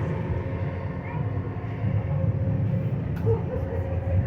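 A cog railway train climbs Pikes Peak with a steady low rumble and mechanical drone throughout, faint voices mixed under the continuous rolling noise.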